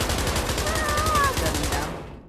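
A semi-automatic World War II gun fires repeatedly in the Pavlov Shack video game, a steady rapid series of shots that fades out at the end, with tonal game sound in the background.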